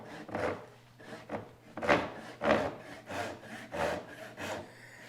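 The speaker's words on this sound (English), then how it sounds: "So this is a rip tooth medium tenon, and this is going to take a while just because of the" A rip tooth medium tenon saw cuts by hand through wood, with about eight rhythmic rasping strokes, each a close, gritty push and pull under a faint steady hum.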